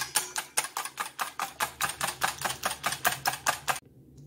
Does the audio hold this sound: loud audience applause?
no